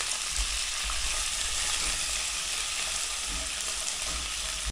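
Pork ribs fry in hot oil in a small pot over a strong flame, a loud, dense, continuous sizzle that holds steady throughout with no voices.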